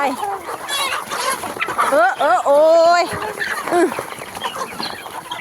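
Chickens cluck and squawk close by while being fed mixed feed, with rising vocal calls mixed among them, while a person talks over the birds.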